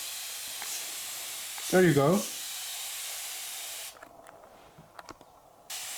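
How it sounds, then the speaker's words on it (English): Handheld spray bottle misting water onto Madagascar bullseye silkmoth (Antherina suraka) cocoons to keep them humid; steady close hiss of spraying with a short spoken remark in the middle, then quieter faint puffs. "What you can do is you can keep them humid by spraying"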